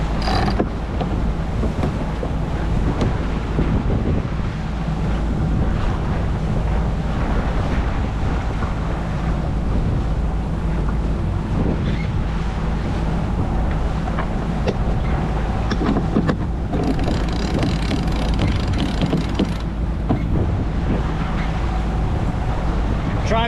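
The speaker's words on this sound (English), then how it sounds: "there's too much freaking wind, mate" Strong seaside wind batters the microphone with a constant loud, low roaring rumble that never lets up, broken only by faint creaks and mechanical knocks underneath.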